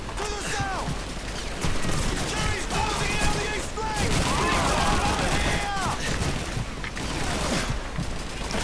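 Dense wartime gunfire in Call of Duty 2 rattles continuously from outside, a loud, busy mix of shots and battle noise with overlapping voices and shouting throughout.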